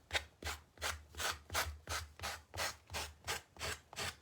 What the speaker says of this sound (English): my little sanding block.